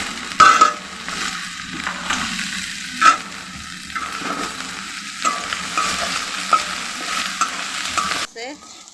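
Prawns fry in hot oil for a Bengali prawn mash, a steady close sizzle with scraping stirs and spatula knocks throughout, cutting off abruptly near the end.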